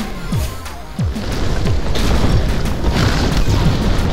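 Explosive rock-spell hits in the Spellbreak video game: a loud, busy stretch of booms and crashing impacts, with whooshing sweeps cutting through a constant roar of game noise.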